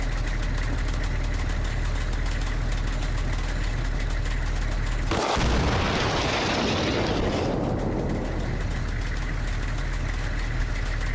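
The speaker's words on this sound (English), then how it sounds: "That engine does not sound healthy." A loud, steady vehicle engine drone in the game Arma Reforger runs throughout, running roughly, with a sudden harsh burst midway that fades back into the rough, continuous rumble.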